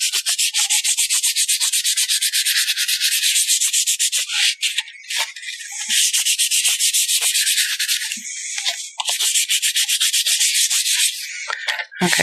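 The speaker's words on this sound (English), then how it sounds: "we're going to use our sander and just lightly sand over that to smooth that grain back down" An electric sander lightly smooths raised grain on a sealed wooden surface, a loud, steady hiss running in long near stretches broken by brief pauses as the pad lifts and resets.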